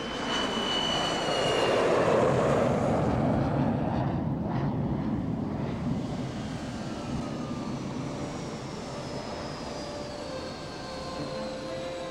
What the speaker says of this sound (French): Nous allons maintenant atterrir à l'aéroport international Pearson.